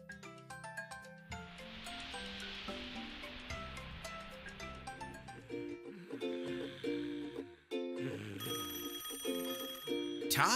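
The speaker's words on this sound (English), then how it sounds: "You have a phone call." A cartoon telephone rings with a bright, repeated electronic trill, layered over cheerful background music in a children's animated show about vehicles, the ringing growing clearer toward the end.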